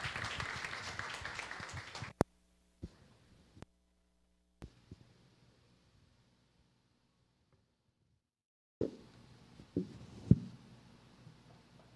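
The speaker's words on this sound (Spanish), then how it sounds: "Un aplauso." Audience applause at the launch of a humanitarian aid foundation, dense and steady for about two seconds before cutting off abruptly, followed by near silence broken by a few isolated knocks and bumps.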